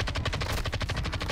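Rapid automatic fire from a video game battle rifle, a loud close burst of evenly paced shots rattling on without pause for over a second.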